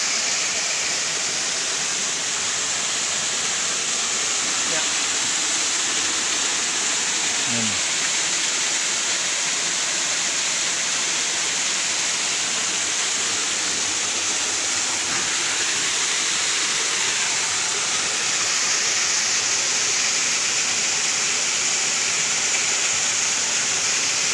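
Ambon Falls in Lobo, Batangas pours in a steady, loud broadband roar that holds unbroken throughout, close and continuous with no voices over it.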